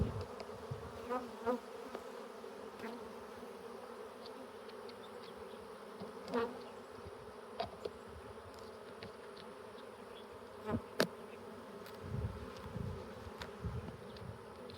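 A soft, constant hum of many bees buzzing, with occasional louder passes as individual bees fly near.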